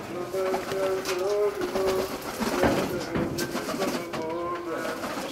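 Pigeons at a spectacular-pigeon flying show in Petra coo repeatedly in close, overlapping calls, with a voice speaking intermittently underneath and some rustling in the background.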